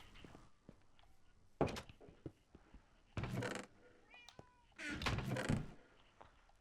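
A cat meows several times in a video game as short separate calls between quiet stretches, with knocks and thuds from the game and some soft talk nearby.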